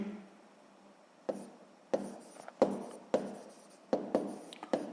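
A pen writes on paper during a sixth-grade math exercise, a series of close, dry scratching strokes in short bursts with brief pauses between them, clear against a quiet room.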